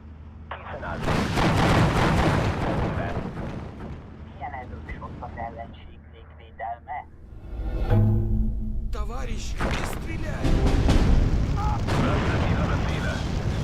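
Artillery fire in the World War II strategy game Steel Division 2, Battle of Dukla Pass: heavy booms and rumbling barrages roll on steadily, loud and dense, with a voice talking over parts of it.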